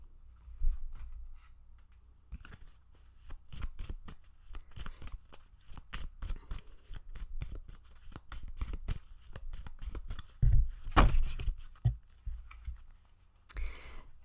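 Tarot cards being shuffled close by, a long run of quick papery riffles and slaps in irregular bursts, with a few sharper knocks as the deck is handled.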